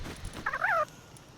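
Bird call from chickens at a base in the Palworld video game: a short, faint, warbling cluck-like sound heard once against quiet game background.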